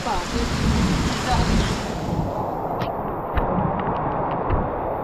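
Heavy rain pours steadily at a beach cottage, a dense broadband hiss with occasional low rumbles, while voices talk faintly in the background.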